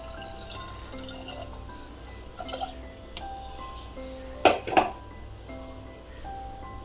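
Soaking water from black rice pours and trickles into a container in short bursts, with a couple of louder splashes and drips between quiet pauses, recorded close.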